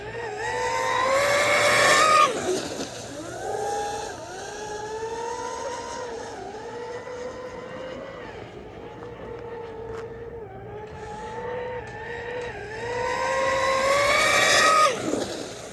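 A loud, screaming MTC Decepticon racing boat runs hard nearby, its high-pitched motor wailing continuously with pitch rising and dipping through repeated throttle changes, peaking at the start and end.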